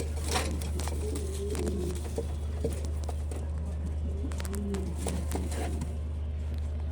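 Pigeons, including Italian and Indonesian birds newly paired, coo softly in a loft with repeated low throaty phrases over a steady background hum, with faint rustling and wing sounds.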